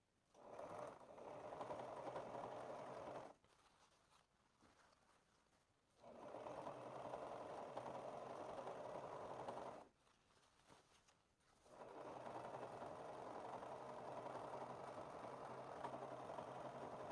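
A sewing machine runs along the seam of a wrap skort in three sustained bursts of steady whirring, separated by short quiet breaks.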